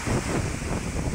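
Typhoon-driven surf from Opong pounds steadily in a dense, unbroken roar, with strong wind rumble on the microphone and nobody speaking.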